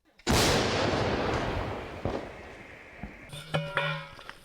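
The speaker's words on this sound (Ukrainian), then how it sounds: "І артилеристи знову заряджають свою гармату" An artillery gun fires once with a loud, close boom that rolls into a long decaying rumble, followed by fainter clanks and a brief tonal whine from crews reloading on a Ukrainian frontline position.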